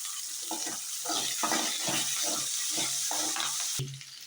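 Curry leaves and onions with vadagam fry in hot oil for a Tamil fish curry, a steady close sizzle with rhythmic stirring scrapes throughout and a brief louder burst near the end; no one speaks.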